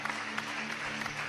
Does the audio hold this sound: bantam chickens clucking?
no